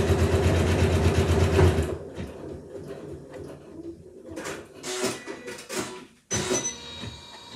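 Janome MC9900 sewing machine stitching a decorative edge on an in-the-hoop coaster: a loud, rapid mechanical whirr that stops after about two seconds, followed by quieter intermittent clicks and softer machine sounds.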